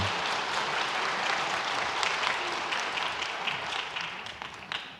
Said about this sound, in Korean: 다 같이 큰 박수로 축하해 주시기 바랍니다